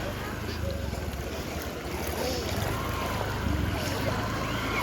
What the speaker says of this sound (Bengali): এ আবার জলেতে বাইক নিয়ে যাচ্ছে